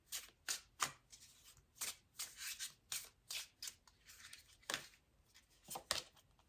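Tarot cards being shuffled by hand, a quick series of riffling, flapping bursts in an uneven rhythm, close and crisp, with no speech.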